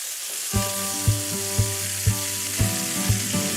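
Zucchini fries in a pan with anchovies and garlic, a steady close sizzle broken by regular clacking taps about twice a second, no speech.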